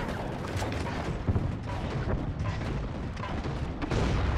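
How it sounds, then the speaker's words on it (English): Drill rod cannon fire in the Halo 4 game, a dense stretch of heavy booming blasts and rumbling impacts that overlap continuously at moderate loudness, with some battle clutter mixed in. "This guy with the drill rod cannon."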